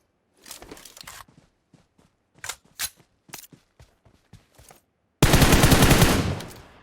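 Bursts of gunfire from the PUBG Mobile battle royale shooter, scattered single and short shots early on, then a loud sustained burst of automatic fire near the end.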